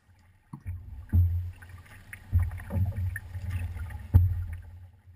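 Paddle strokes on a big canoe land as several low, rhythmic thumps and swishes of water at roughly one-second intervals, close and moderately quiet, with faint wind in between.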